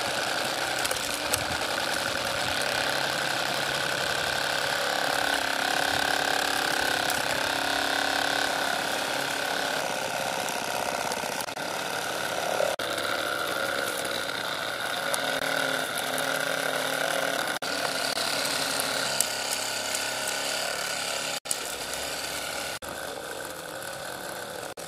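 Homemade wheat thresher machine runs continuously, a dense, loud mechanical drone with rattling and knocking that holds steady throughout, with no talk.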